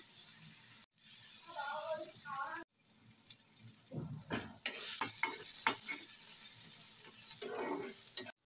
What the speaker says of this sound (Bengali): লবণ হলুদ দিয়ে দিয়েছি, এবার ভালো করে সমস্ত কিছু ভাজা ভাজা করে নেব।